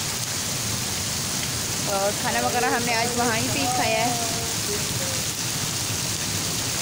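Heavy, stormy nighttime rain pours down as a steady, dense hiss that fills the whole clip, with someone talking over it in the middle.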